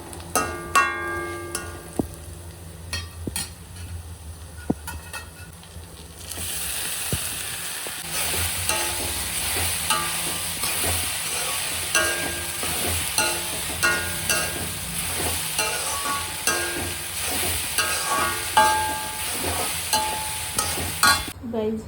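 Sushila, a puffed rice breakfast, roasting with peri peri masala in a pan: repeated scraping stir strokes over a soft sizzle, close and rhythmic, after a quieter opening of clinks and light kitchen noise.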